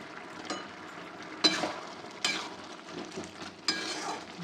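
Cardamom pods frying in a spoonful of hot ghee in a pan for banana flower curry, a faint steady sizzle broken by a few louder crackling bursts and light stirring scrapes, with no talking.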